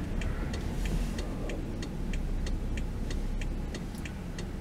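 Steady engine and exhaust drone of a 2016 BMW X5 while driving in sport mode, a continuous low rumble with a regular ticking, like a turn signal, running over it and no talk.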